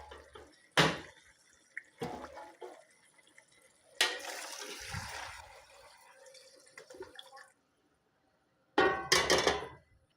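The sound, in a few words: pouring meat broth into a cooking pot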